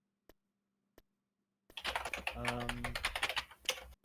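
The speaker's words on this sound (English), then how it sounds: "Oh, I hope my typing is not coming to the stream. No, it is. I can hear it" A computer keyboard clicks with a couple of isolated keystrokes, then a busier run of typing sounds under a person talking nearby.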